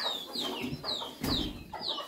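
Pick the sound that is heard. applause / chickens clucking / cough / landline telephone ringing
chickens clucking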